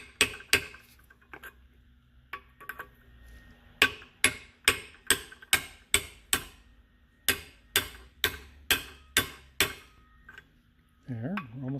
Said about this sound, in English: we're going to tap it in with a socket. We're just going to tap lightly.